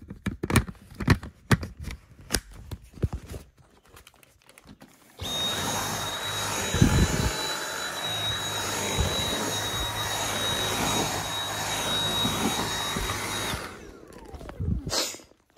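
A Dyson V7 cordless vacuum cleaner switches on and runs with a steady, loud high-pitched whine for about eight seconds, then shuts off, with clicking handling sounds before and after.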